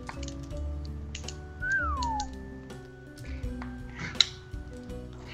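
A voice imitates a Star Wars droid whistling during a tabletop roleplay session: a single rising-then-falling whistled chirp lasting about a second, over a busy background of clinking dishes and faint ambient noise.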